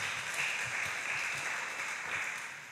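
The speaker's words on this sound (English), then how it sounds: "So I think they deserve a hand clap." Sustained applause from a church audience at a Sabbath afternoon program, a dense, even wash of many hands clapping at a steady level that fades slightly at the end.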